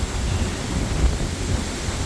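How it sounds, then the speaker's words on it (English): Wind and rain outdoors on a cold day in Maine, a steady broadband roar of gusts and rainfall filling the whole clip with no voices. "it's also windy and kind of raining"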